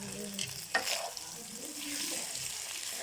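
Rice with capsicum and carrot is stir-fried in a wok, a steady hissing sizzle with scraping and tossing of the spatula, one sharp clank near the start, all fairly close and without talking.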